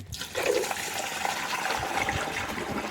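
Water gushes into a backpack pesticide sprayer pump tank being filled halfway before mixing spray for a groundnut field, a loud, steady close-up pour with a constant hollow rushing sound throughout.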